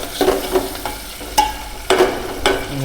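Ginger paste frying in hot oil with turmeric for a chicken curry, stirred with a spoon: soft sizzling underneath, with scraping, clinking stirs every half second or so, close and fairly loud.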